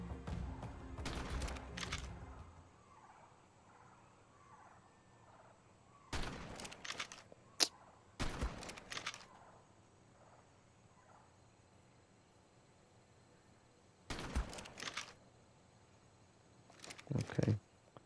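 Shotgun fire in ARK: Survival Ascended, several sharp loud blasts spaced apart by quiet stretches, some in quick pairs, over faint ambient background.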